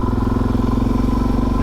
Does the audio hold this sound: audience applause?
no